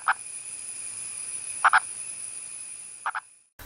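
A purple pig-nosed frog croaks in short calls: a single call, then two quick double croaks spaced about a second and a half apart, close and distinct over a faint steady high hiss.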